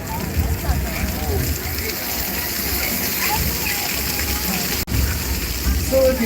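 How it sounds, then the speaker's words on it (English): Steady hiss of heavy falling water from an artificial rain effect on a studio set at Universal Studios Hollywood, like a downpour, fills the space, with a person talking faintly beneath it. "can I get some rain, please?"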